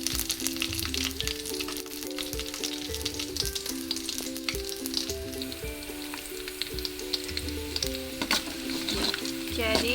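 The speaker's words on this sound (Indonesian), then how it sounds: "bahan ini semuanya kita masukkan ke sini sekalian untuk ditumis" Shallots, nutmeg and bird's eye chilies sauté in a pan for an Aceh-style white beef curry, giving a loud, steady sizzle with scraping stirs throughout and no talking.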